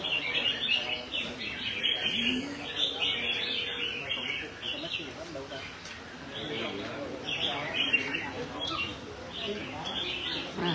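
Many caged competition songbirds chirp and trill at a bird-singing contest final in Vietnam, a busy, continuous chorus of bright calls with occasional cooing, heard under someone talking.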